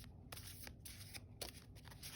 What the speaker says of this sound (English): I think we should give it a shuffle